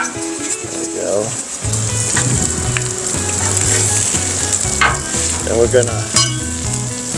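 Onions fry loudly on a griddle for bacon smash burgers, a strong sizzle broken by spatula scrapes and clatters as they are mixed, while someone speaks briefly at the start.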